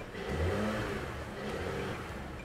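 A car engine with about 84,000 km on it revs up loudly at close range, holding a steady roar for a couple of seconds with a slight rise and fall, and no talk over it.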